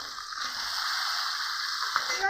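Masala sizzling and frying steadily in a pan as tomato goes in for a magur fish curry, a continuous close hiss with a small clink near the end.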